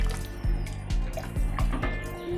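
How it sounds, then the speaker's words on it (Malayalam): Water goes into rice in a pot and gets stirred, giving soft wet drips and squelching thumps at an uneven, steady pace, close by. "നമുക്കിങ്ങനെ പാകത്തിനുള്ള വെള്ളം ഇട്ടിട്ട് നമുക്കൊന്ന് നന്നായിട്ട് ഇളക്കി കൊടുക്കാം"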